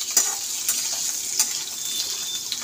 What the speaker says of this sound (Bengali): পাঁচফোড়নটা একটু গরম হয়ে গেলে আলুগুলো দিয়ে দেব